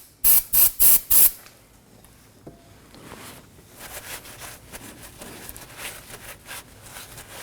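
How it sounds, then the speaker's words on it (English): Brake cleaner sprayed around the front brake hose and bleeder screw area of a 2015-2023 Nissan Maxima, heard as four short, loud hissing bursts in quick succession followed by quiet background noise. "Clean the surrounding area with some brake cleaner and a rag."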